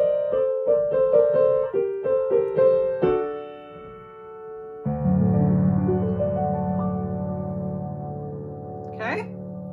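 Solo piano plays the Howl's Moving Castle theme, first as short detached repeated notes, then as sustained chords with flowing arpeggios, ending in a quick upward run; close, moderately loud, with no talking.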